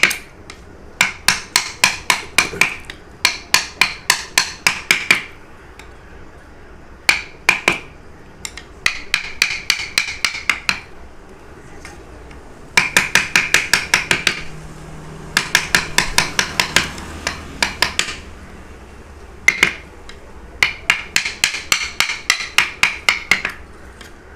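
Steady hammer blows drive strips onto both sides of a wooden chair frame, landing in quick bursts of about five to ten sharp, close, loud taps with short pauses between the bursts and no voices.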